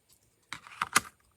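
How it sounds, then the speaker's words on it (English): A few quick, soft rustling clicks in a short burst, like tarot cards being riffled or shuffled close by, then silence. "I'm literally shuffling."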